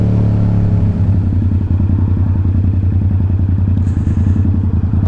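A Yamaha R7 and a Honda Goldwing motorcycle race, giving a loud, close engine rumble that shifts from a steady drone into a rapid, pulsing beat as the bikes pull away, continuous for several seconds.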